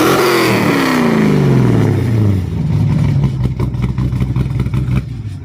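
A 600 HP Lexus with its exhaust hooked up revs hard close by, the engine note sweeping down from a loud roar into a rough, rattling idle with choppy pulses.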